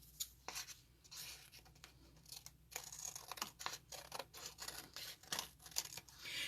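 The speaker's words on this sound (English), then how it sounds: "I'm going to use scissors" Quiet, repeated snipping and crisp clicks of scissors cutting paper, irregular bursts close by with light rustling between cuts.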